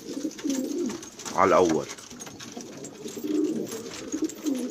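Pigeons coo in a loft of Syrian fancy tumbler pigeons, a soft rolling call that stands out mid-clip over a steady murmur of birds, with someone speaking in the background.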